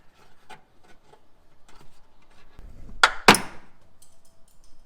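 Plastic trim clips snap loose under a pry tool during a Fumoto oil drain valve install, two sharp close cracks in quick succession after faint scattered handling noises.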